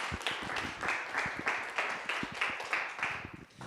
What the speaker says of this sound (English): So round of applause, please.